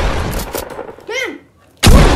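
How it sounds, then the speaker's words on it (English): A shotgun blast in the Fortnite video game rings out once, loud and close, with a sharp burst at the end of the short stretch, following earlier game noise and a brief tonal effect. "Shotgun."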